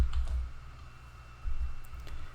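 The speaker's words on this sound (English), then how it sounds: "I'm gonna start by typing the equal sign," Typing on a computer keyboard, with a few faint, light key clicks scattered over a low background hum and no speech.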